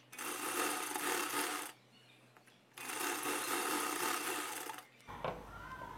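Sewing machine stitching the front part of a blouse, two loud, close bursts of fast whirring stitching separated by a short pause, ending with a brief clatter and scrape of handling.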